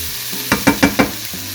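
Ground beef and other ingredients are stirred as they fry in a pan, four quick, loud scraping strokes in a row over a faint sizzle.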